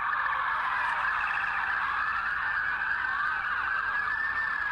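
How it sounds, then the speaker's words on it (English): Emergency sirens wailing through a usually quiet neighborhood, captured on a phone, a continuous rising and falling tone with overlapping sirens, loud and steady throughout, no voices. "show me what it sounded like when the sirens were going off"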